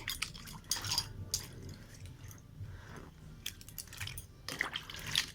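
Hands squeeze and wash cut pieces of jackfruit in flour water, making wet squelching, sloshing sounds in irregular bursts with soft splashes nearby and no voices.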